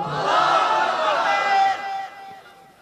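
A large gathering at a Bangladeshi Islamic waz sermon shouts the takbir together in one loud, sustained chorus that swells for about two seconds and then fades away.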